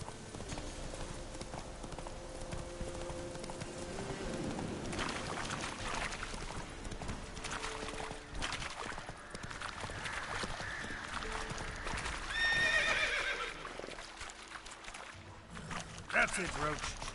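Hooves clip-clop steadily as a horse runs in The Witcher 3, heard at moderate level throughout with game sounds and a man's speech over it.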